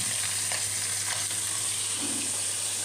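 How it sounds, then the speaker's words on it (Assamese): Fish frying in a pan, a steady loud sizzle of hot oil with faint stirring scrapes, continuous and close, no voices. "এইখিনি মাছ ফ্ৰাই কৰি লওঁ"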